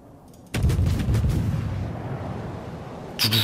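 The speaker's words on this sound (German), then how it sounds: "Wir können ja ein bisschen hier rumschießen, ein bisschen testschießen" Warship guns fire in the naval combat game World of Warships: a loud, heavy salvo booms out and rumbles for a few seconds before fading, and a second blast erupts near the end.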